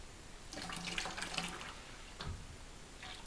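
Fruit wine concentrate, white and raspberry, poured into a container, a close watery gurgling stream in a few uneven surges, with no voices.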